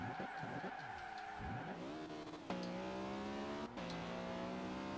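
A VW Corrado engine in the video game Forza Horizon 2 revs hard and then holds steady against the limiter, with tire squeal and skidding mixed in, loud and close throughout.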